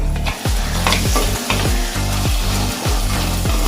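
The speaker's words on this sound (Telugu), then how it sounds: "ఒకసారి కలుపుకోవాలి." Fish curry with raw mango being stirred in a frying pan, a loud rhythmic scraping of the spoon around the pan over a steady sizzle, several strokes in a row with no talk.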